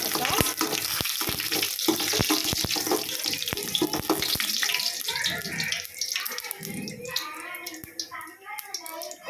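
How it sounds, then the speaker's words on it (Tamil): Whole spices such as fennel seeds frying in oil in a pan for chicken kurma give a busy sizzle with sharp crackles and pops, while a voice talks over it in places. "நல்லா ஃப்ரையாகட்டும்."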